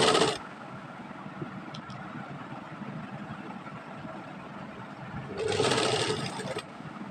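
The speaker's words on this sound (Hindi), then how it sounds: "इस पट्टी को बिल्कुल फिनिशिंग के साथ हमें फोल्ड करते हुए सिलाई लगा देनी है चारों तरफ।" A sewing machine stitches around a folded fabric strip on a child's kaftan top, with two short close bursts of whirring at the start and again near the end and a quiet pause between.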